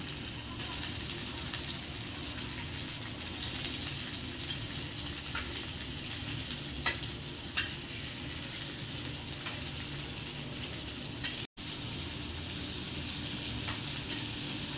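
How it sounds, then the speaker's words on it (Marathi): Steady close sizzling of semolina-coated tilapia frying on a hot griddle, a continuous crackle with a few sharper pops and a brief dropout. "असं आपण सगळी मच्छी रवा लावून टाकून घेऊयात तव्यावर."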